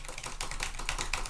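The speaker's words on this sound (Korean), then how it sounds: "지금은 로데 NT-USB 마이크로 키보드와 마우스를 막 두드리면서 이야기하고 있어요" Computer keyboard and mouse being tapped hard close to a Rode NT-USB microphone: rapid, irregular clicks and clacks over a steady background hum.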